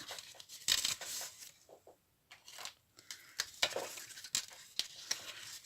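A paper road book being folded by hand, with crisp crinkling and tearing-like rustles in short bursts and brief pauses between, close and fairly quiet, with no talking.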